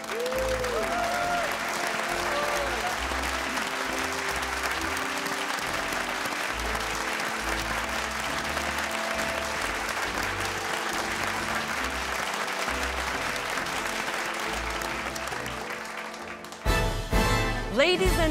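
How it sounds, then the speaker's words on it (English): An audience gives a sustained ovation for young musicians at the final of a televised classical music competition, dense continuous clapping filling the hall, with a voice and a brief swell near the end. "An ovation to them."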